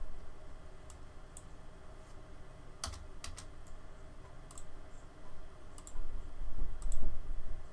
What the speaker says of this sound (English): I'm double clicking on these to make the piece come up to change them.